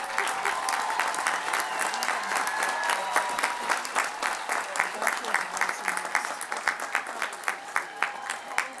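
Sustained applause from a large crowd for graduates at a university commencement, dense clapping that thins toward the end into more distinct, spaced claps.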